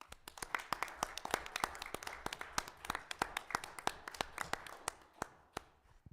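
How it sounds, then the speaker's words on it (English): A small audience at a city council meeting claps in scattered, uneven strokes for about six seconds. Individual sharp hand claps stay distinct and moderately close rather than merging into a roar, with faint room noise between them. "join me in giving her a round of applause"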